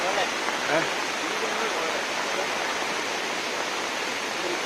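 River water rushing at Nekkarekalaya dam in the rain, a steady broadband roar that holds constant throughout, with no clear voices over it.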